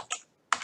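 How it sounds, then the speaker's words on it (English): Two quick bursts of keystrokes on a computer keyboard as a username is typed, crisp and close with a short pause between them. "we're going to type in"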